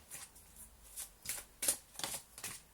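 Tarot cards are shuffled in several quick, papery riffling bursts at a steady rhythm, close and fairly soft, with quiet pauses between them.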